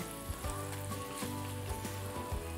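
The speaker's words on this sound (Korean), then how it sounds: "밥을 살짝만 볶을 거예요." Cooked rice stir-frying in a pan with onion, olive oil and salt, a steady crackling sizzle broken by short scraping stirs, close and continuous.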